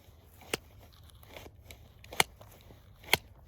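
A new prosthetic leg clicking during walking: three sharp, isolated clicks spaced about a second apart, close and crisp over a quiet room.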